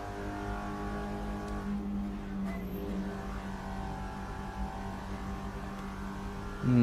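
A Cupra Leon race car engine drones steadily at Macau in a racing video game, holding a sustained, even tone with a slight rise in pitch near the end.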